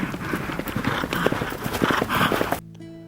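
Horse hooves clopping in a steady rhythm during World War 1 style cavalry training with sword and lance, close and fairly loud, cutting off abruptly before a short stretch of near silence.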